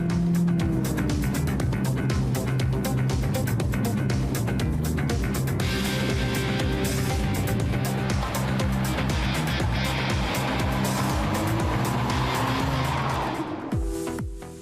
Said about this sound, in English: 475 Newton-meters of torque push the driver back in his seat when the car accelerates